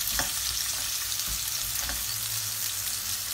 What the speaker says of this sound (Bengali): এটা আমাদের কিছুটা ফ্রাই করতে হবে।